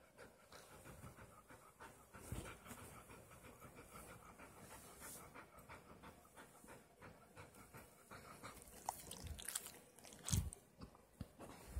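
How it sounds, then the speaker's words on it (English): Several pet dogs pant quietly and continuously at close range, with occasional soft chewing and crunching mixed in and no voices. "So, yep, I'm just hanging out with dogs,"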